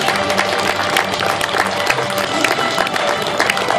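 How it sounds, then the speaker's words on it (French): Applause from an audience at a Francophonie festival fashion show of traditional Vietnamese áo dài, dense continuous clapping with crowd noise, steady and fairly loud throughout. "Vous pouvez les applaudir"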